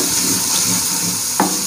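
Minced meat (keema) with spices and chillies cooking in a pan, giving a steady, close sizzle throughout with one brief clink near the end.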